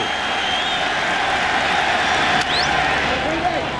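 A baseball stadium crowd at the 1996 World Series, Atlanta against the New York Yankees, cheering for a strikeout on a 2-2 count: steady, broad roar and clapping from many fans, heard under a play-by-play announcer's voice.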